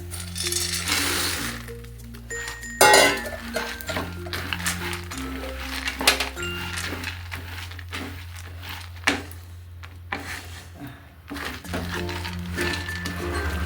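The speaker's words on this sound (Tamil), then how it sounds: "இதில் வந்து வேர்க்கடலையை கொட்டிடலாங்க" Groundnuts are poured into a pan of melted jaggery for groundnut burfi, a rapid rattling cascade of hard little clinks and knocks against metal, shifting in bursts with a few louder strikes.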